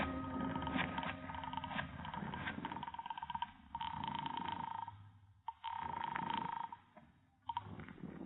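A telephone handset is picked up and handled amid old radio drama sound effects, with faint mechanical clicks and a steady ringing tone that starts and stops, thin and muffled.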